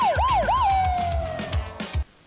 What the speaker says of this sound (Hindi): सुन सायरन सुन।